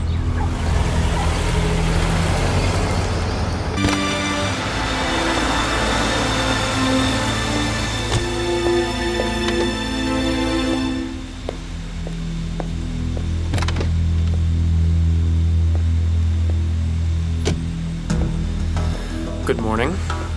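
A car drives along with a steady engine hum and road rumble, while a voice speaks over it and music sits underneath.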